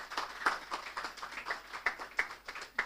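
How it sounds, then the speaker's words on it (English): A small group at an international biotechnology conference applauds, producing faint, scattered claps at a loose, uneven rhythm rather than a dense roar. "Can we have a huge round of applause,"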